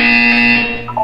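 A loud, steady electronic buzzer from the video game Portal 2, one continuous flat tone held for about a second before cutting off, with a brief higher blip at the very end.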